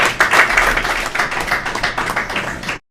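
Audience at an Urdu poetry gathering (mushaira) clapping to welcome a poet, a short, steady burst of dense applause that stops abruptly.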